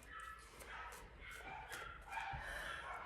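Dogs bark repeatedly at moderate distance in a house full of people, with several yips and woofs over a steady background of household noise.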